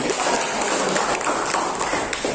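A class of students in a monetary policy lesson claps together, a brisk, bright patter of many hands with a few sharper taps standing out, fairly close and continuous for a couple of seconds.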